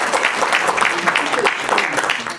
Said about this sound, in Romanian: Vă invit să-l aplaudă!